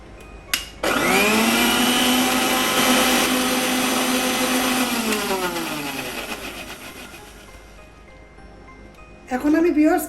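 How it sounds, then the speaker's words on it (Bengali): A kitchen blender whirs loudly as it blends mint chutney with coriander leaves and ginger garlic paste, a steady motor drone that slowly winds down, then briefly starts again at the end. "এখন আমি আরেকটু ব্লেন্ড করব।"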